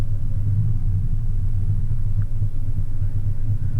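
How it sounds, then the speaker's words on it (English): A car rolling down a hill, heard as a continuous low rumble of engine and road noise that stays fairly loud and close throughout the short stretch, with no speech. "there's a car coming right down the hill now"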